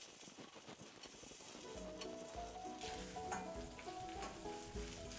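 Turmeric and dal tempering frying in a pan for a mixed-dal dish, a dense close sizzle that runs on without a break, with a low bubbling hum and a faint tone in the background.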